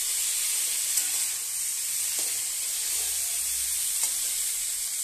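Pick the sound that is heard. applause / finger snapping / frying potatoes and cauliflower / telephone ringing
frying potatoes and cauliflower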